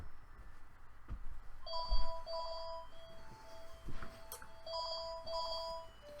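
A mobile phone rings with a bright electronic melodic ringtone, repeating short tonal phrases in bursts at moderate volume, with thumps and faint background noise between the rings.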